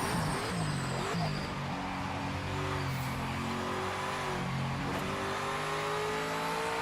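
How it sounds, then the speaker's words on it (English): Cadillac race car in the video game Project Motor Racing, its engine droning steadily and loudly throughout with rising and falling revs as it accelerates, plus a brief tire squeal; no talk. "Cadillacs make the best sounds"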